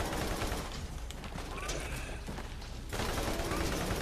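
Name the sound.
bullet fire in Borderlands video game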